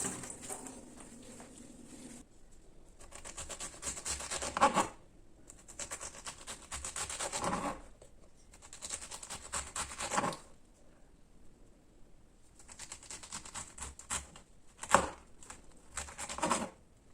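Knife working on a fresh pineapple, peeling off the skin and cutting out the eyes, in repeated scraping, rasping bursts of a few seconds each separated by quiet pauses, close up with no talk.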